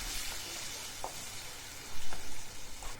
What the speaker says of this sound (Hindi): इसे भी अच्छे से फ्राई करेंगे जब तक ये तेल ना छोड़ दे।